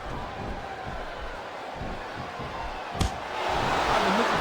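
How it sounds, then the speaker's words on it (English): A capacity crowd in a wrestling arena rumbles and reacts during a WWE video game Iron Man match, a continuous murmur broken by a sharp slam around midway before the crowd noise swells louder. "capacity crowd is making their opinions known tonight"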